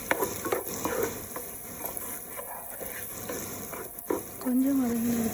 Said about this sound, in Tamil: ஒரு ஹோல் ஆனியன் கட் பண்ணதை ஆட் பண்ணி வதக்கிக்குவோம்.